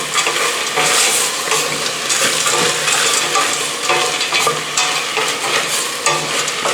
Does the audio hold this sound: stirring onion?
yes